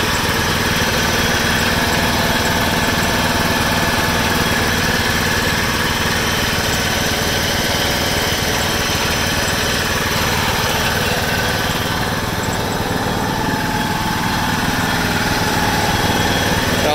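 A Kawasaki engine on a 1996 John Deere LX176 lawn tractor, started for the first time in several years, runs loud and steady at close range, with a constant throbbing drone and vibration and no talking.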